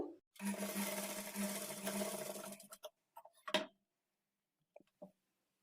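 A sewing machine stitching fabric pieces together runs in a fast, whirring burst of about two seconds, then stops, followed by a few scattered clicks and taps.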